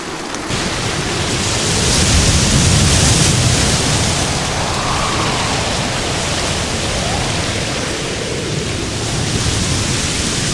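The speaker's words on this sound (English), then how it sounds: "The UAE is also experiencing extreme weather, with heavy rain and strong winds in Masafi, flooding the market and streets" Heavy rain and floodwater rushing through market streets during a storm in Masafi, UAE: a loud, steady roar of water and downpour with a broad hiss that swells slightly and never lets up, with no voices.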